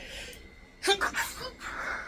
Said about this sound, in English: Now you know what my sneezes sound like.